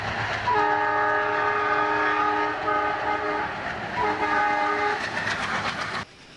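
A passenger train runs along the rails with a steady rumble and rolling clatter, a long sustained horn sounding over it for several seconds before the noise drops away abruptly near the end.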